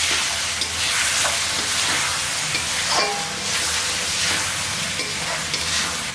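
Egg masala gravy stirred in a pan, with a loud, steady sizzle and hiss broken by repeated scraping strokes of the spoon.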